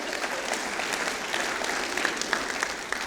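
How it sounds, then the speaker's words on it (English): An audience claps for the MC at an event in Huntsville, a steady wash of applause from a sizable crowd holding even and moderately loud for the whole stretch. "how about another round of applause for our MC there, Madeline"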